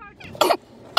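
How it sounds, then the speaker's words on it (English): Two sharp, forceful coughs into a face mask sound close by, muffled and separated by a short pause. "you both are about to cough really hard as possible inside your mask 3 times"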